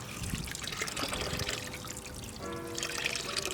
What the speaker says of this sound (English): So I'm just going to let all that water drip out